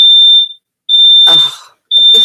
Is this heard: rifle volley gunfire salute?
no